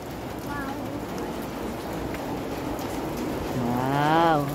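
Heavy rain pours in a steady broadband wash at an outdoor Lenten exhibit in Paete, with voices speaking intermittently over it and a louder rise near the end.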